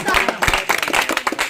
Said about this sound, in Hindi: इसके लिए एक ताली तो बनता है